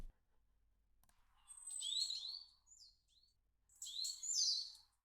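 Two bursts of bright, high-pitched birdsong with quick whistled sweeps and trills, separated by a short pause, over a faint low hum.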